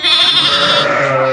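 A sheep or lamb from a flock of ewes with young lambs gives one loud, close, wavering bleat that lasts just over a second.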